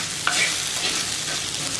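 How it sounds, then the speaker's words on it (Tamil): Potatoes frying in a pan sizzle steadily while a utensil scrapes and stirs through them, close and moderately loud, with no voices. "உருளைக்கிழங்கு போட்டதுக்கப்புறம் நம்ம வந்து கலந்துக்கிட்டே இருக்கணும்"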